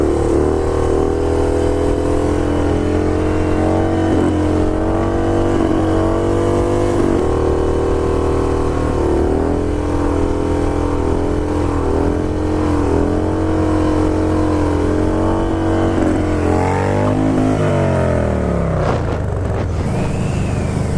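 Yamaha R6 sport motorcycles riding in a group, with a loud, continuous engine drone that rises and falls as they rev and accelerate, ending in a sharp rev.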